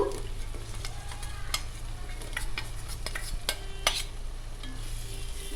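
Fried paneer pieces are stirred into biryani cooking in a pot, a steady sizzle running underneath scattered scrapes and clinks of a spoon against the metal, fairly close and without any voices.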